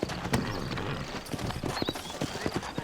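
Horse hooves clip-clop steadily in Red Dead Redemption, set in New Austin. The close, brisk beats of a horse on the move are heard with a brief whinny and faint background sounds.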